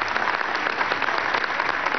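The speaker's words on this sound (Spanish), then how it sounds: "Un aplauso para este hombre" Brief stretch of steady, dense applause from an audience at a government ceremony where ambulances are handed over, clapping evenly with no voices over it.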